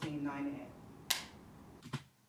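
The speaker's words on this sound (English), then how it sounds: "Where there's our slate clap and close." A sharp film slate clap marks audio sync for a shoot, one crisp crack after a murmur of talk, followed moments later by a second softer knock as the slate closes.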